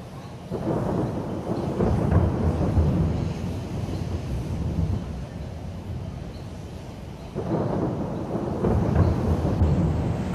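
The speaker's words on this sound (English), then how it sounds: "all of a sudden, again, second night in a row, it turned into thunderstorms." Low rumbling thunder from a nighttime thunderstorm in Mexico rolls in two long swells, loud and near, with a steady hiss of rain underneath.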